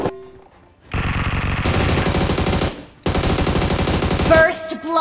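Rapid automatic gunfire in the battle royale game PUBG, loud and dense in two long sustained bursts separated by a brief gap, with a short quieter stretch at the start.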